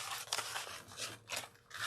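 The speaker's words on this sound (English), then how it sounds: "I'm going to go ahead and use my pinking shears" Pinking shears crunching and snipping through a fabric zipper, several rough scraping cuts close and quiet.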